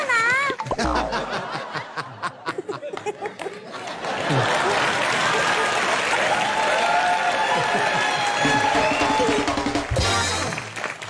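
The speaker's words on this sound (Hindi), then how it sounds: "बेटा एक बात देख भी रहे हो मेरे लिए कितनी तालियां बज रही हैं।" Studio audience applause and laughter during a comedy show, starting after a short stretch of voices and laughs, then swelling into steady, fairly loud clapping that runs on before cutting off near the end.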